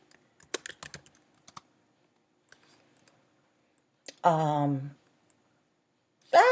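Computer keyboard typing in scattered bursts of clicks during the first half, quiet and fairly close, followed by a short spoken voice and another voice at the end.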